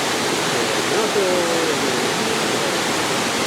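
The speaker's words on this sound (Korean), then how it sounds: "칠연계곡에 있는 칠연폭포." Chilyeon waterfall in Chilyeon valley on Deogyusan mountain pours with a steady, dense rushing roar of falling water, loud and unbroken throughout with no other sounds over it.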